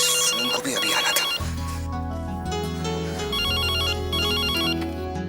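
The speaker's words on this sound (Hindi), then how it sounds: "फोन बज रहा है।" A mobile phone ringtone plays loudly in a home, a repeating electronic melody of bright beeping notes over a fuller musical backing, continuing without pause and with no speech over it.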